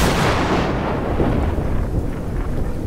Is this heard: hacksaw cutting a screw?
no